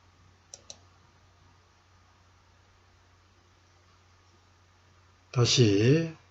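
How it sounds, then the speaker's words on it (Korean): A computer mouse clicks the save button in PhotoScape X photo-editing software: two quick, close, crisp clicks in a quiet room, followed a few seconds later by a voice speaking. "저장 버튼을 클릭합니다"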